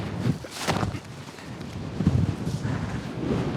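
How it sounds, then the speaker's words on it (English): Strong outdoor wind buffeting the microphone during a disc golf round, gusty low rumbling bursts that rise and fall unevenly, loud and close, with no speech. "Sorry if you can't hear anything from the wind."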